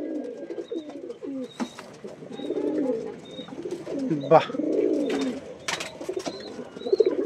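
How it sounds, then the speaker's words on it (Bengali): A pair of Fullshira bloodline racing pigeons coo repeatedly in low, throaty bursts just after release at a loft, with distant chirps and brief talk in between. "তো বন্ধুরা পায়রা দুটি ছাড়া হচ্ছে"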